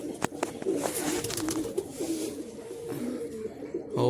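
Pigeons coo softly in a loft tucked into a corner, low rolling calls repeating amid faint clicks and taps, fairly quiet and close.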